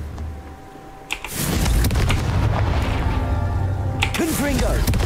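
In the video game Hogwarts Legacy, a Confringo fire spell bursts into a loud rumbling explosion that roars for several seconds after a brief quieter lead-in, with a voice speaking over the tail end.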